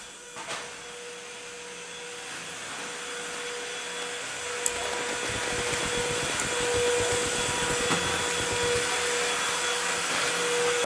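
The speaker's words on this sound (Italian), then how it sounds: "E io sto per passare l'aspirapolvere" A vacuum cleaner switches on and runs steadily, its whine and rushing airflow holding for about ten seconds with a slight rise in intensity partway through.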